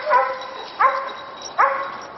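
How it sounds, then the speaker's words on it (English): A dog barks up at a tree where it smells a squirrel, at a dog daycare and boarding home, three close, evenly spaced barks, each a sharp yelp trailing off. "There's Miko barking at that tree"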